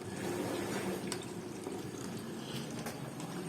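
Water leaking from a faulty AEG dishwasher that will not switch on, a steady low hiss and trickle with a few faint drips, fairly close and continuous, with no voices.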